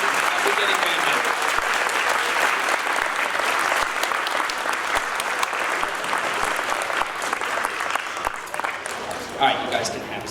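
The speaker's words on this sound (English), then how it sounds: "big round of applause for our this year's beginning band members" A school audience gives a big, sustained round of applause for beginning band students at a middle school spring band concert. Dense clapping fills all ten seconds at a steady, loud level.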